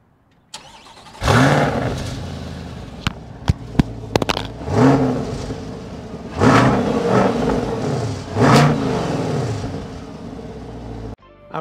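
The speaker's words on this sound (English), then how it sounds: "I need y'all to hear the way this C8 sounds." A 2022 Chevrolet Corvette C8 starts up close by, then its engine is revved in several loud, rising bursts between steady idling stretches, punctuated by sharp clicks, before cutting off abruptly at the end.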